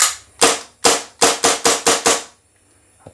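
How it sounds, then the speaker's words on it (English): A Tokyo Marui Strike Warrior .45 1911 gas blowback airsoft pistol fires seven sharp, close, loud cracks, two spaced apart and then five in quick succession, followed by quiet. "let's fire some gas through it real quick here"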